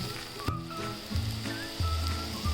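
Egg-soaked toast sizzles in a hot pan, a steady crackling hiss with small pops and bursts of spattering, close up with no voices.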